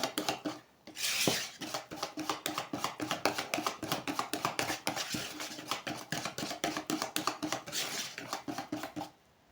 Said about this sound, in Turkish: pürüzsüz hale gelinceye kadar çırpalım